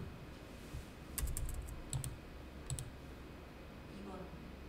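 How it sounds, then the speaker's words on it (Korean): Quiet computer keyboard typing during data entry in an accounting class, several short bursts of quick clicks separated by pauses, with soft low background murmur. "그러면 여기다가 타이핑을 해줍니다"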